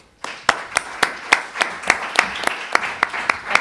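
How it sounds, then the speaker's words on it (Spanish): A conference audience gives applause that settles into steady, evenly paced claps, about three or four per second, crisp and fairly close, continuing for several seconds. "Un aplauso para ellas."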